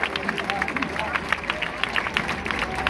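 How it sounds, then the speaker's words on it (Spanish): An audience at a folk music event claps for a performer, a busy patter of many hands under crowd murmur and scattered voices. "fuerte aplauso para él, por favor!"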